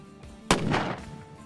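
A single loud long-range rifle shot cracks out at a 1000-yard shooting competition, followed by a short rolling echo across open ground.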